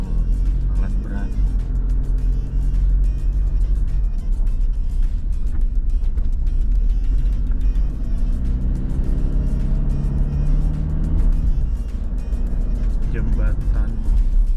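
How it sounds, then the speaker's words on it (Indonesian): Busy road traffic, including trucks hauling heavy equipment, on a road trip from Banjarbaru toward Balikpapan in Indonesia; a steady, loud rumble of engines and tires continues throughout, with voices mixed in. "Ada beberapa truk yang ngangkut alat berat."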